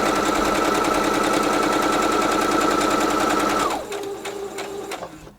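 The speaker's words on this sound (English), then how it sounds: "So I went a few stitches, now I do a couple back stitches and then continue." A sewing machine runs loud and fast at a steady close whir while stitching a fabric bag, then slows and changes pitch for a couple of back stitches before stopping, with no voices.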